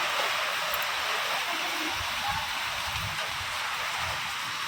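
Steady rain pours down in a dense, even hiss that fills the scene, with faint low voices murmuring beneath it.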